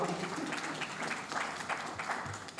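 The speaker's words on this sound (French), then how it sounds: "Ça ne mérite pas un applaudissement" Steady applause from an audience at a government event, a dense wash of many hands clapping together for a few seconds, fairly loud and continuous.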